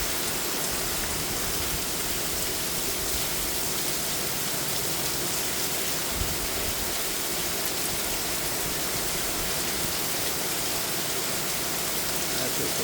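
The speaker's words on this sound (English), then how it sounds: "That is downpouring." Heavy rain downpour in Chandler, Arizona, a steady, dense hiss of pouring water that stays constant and fairly close, with one faint thump midway.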